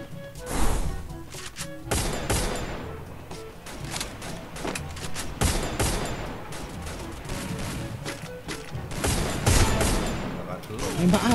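Rapid bursts of gunfire from a Free Fire match on the Bermuda map rattle almost continuously, with dense overlapping shots and occasional louder cracks, close and loud throughout.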